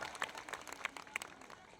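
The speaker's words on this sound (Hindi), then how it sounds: "एक बार जोरदार तालियां हो जाए साथियों" An audience applauding for a company managing director at an event: scattered, fairly faint hand claps in an irregular patter, with no voices.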